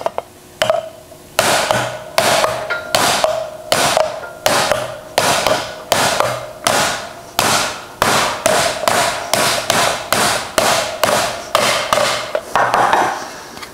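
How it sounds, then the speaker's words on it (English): Steady, rapid hammer blows on sheet metal over a rubber stump and shot bag, shrinking the metal, loud and close, with a ringing metallic tone, continuing for over ten seconds without talk. "As I'm hammering it, all this sheet metal is being crunched together"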